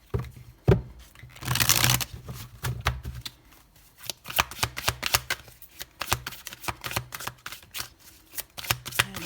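Rider-Waite tarot cards are shuffled and cut by hand, a long riffle burst followed by rapid, uneven flicks and slaps of cards close up, with no talking.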